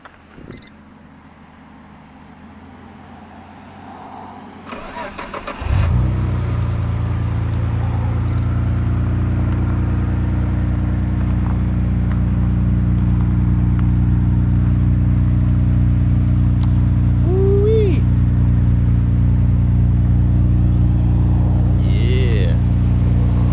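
A Nissan R32 Skyline GTR engine cranks and fires up inside a cluttered garage, then settles into a loud, steady idle with a deep rumble that grows slightly, while faint voices talk over it.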